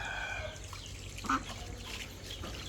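Peking ducks in a backyard flock give a single short quack over steady outdoor background noise, faint and at a moderate distance.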